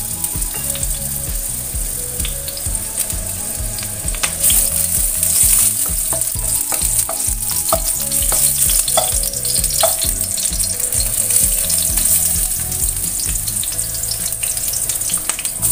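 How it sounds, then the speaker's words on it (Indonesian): Loud, steady sizzling of ginger frying in a hot pan, with scraping stirs and clatter throughout. "Lalu kemudian goreng jahenya terlebih dahulu."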